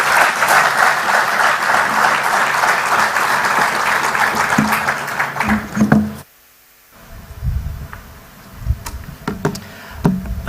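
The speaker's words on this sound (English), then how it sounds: "Another round of applause for Governor." An audience at a central bank governor's monetary policy and financial stability statement applauds in a dense, loud burst for about six seconds. The clapping stops sharply, leaving quiet room noise and a few scattered knocks.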